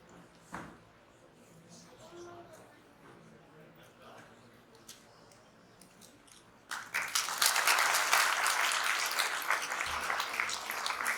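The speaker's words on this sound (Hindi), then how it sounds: "तालियों की नाद से" Applause breaks out at a lamp lighting ceremony during an introductory session in Vadukad, Gujarat, rising suddenly after a quiet stretch into dense, sustained clapping from a gathered crowd.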